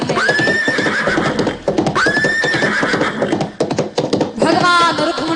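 Horses neighing loudly in repeated long whinnies, one after another, over busy clip-clopping hooves and background clatter, close and energetic, as if a team is pulling a chariot at speed.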